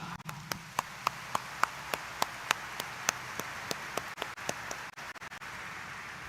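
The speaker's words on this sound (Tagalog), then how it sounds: "Kaya't pwede ba iparinig natin uli sa mahal na Senyor ang mas malakas na palakpak?" A congregation at a morning mass in Quiapo Church claps in steady, evenly spaced unison beats over a continuous wash of crowd applause, then the rhythm breaks into scattered claps.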